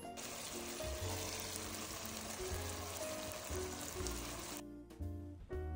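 Chicken liver hits a hot frying pan for lomi, giving a steady close sizzle and crackle for several seconds before it quietens near the end, with no talk.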